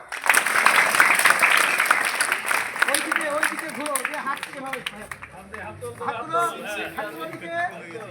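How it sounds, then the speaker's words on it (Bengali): Students applaud at a school annual results ceremony, a burst of loud clapping that gradually thins and fades while children's chatter and voices rise over the tail end. "তোমরা একটু হাততালি দাও"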